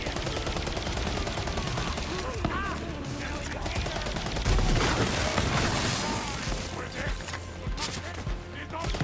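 Grenade blasts and heavy gunfire fill a Borderlands boss fight played on a Steam Deck LCD, with continuous loud booms and rapid shots layered under talking.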